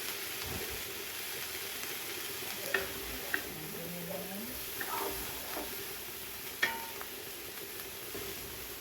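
Onions and celery caramelize in a pan with a soft, even sizzle, punctuated by occasional light clicks of stirring utensils against the pan.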